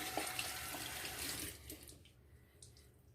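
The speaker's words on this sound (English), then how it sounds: "I'm gonna rinse my soap here." A running tap rinses soap off a brush at a sink: a steady, fairly soft hiss of water that thins out and fades about halfway through.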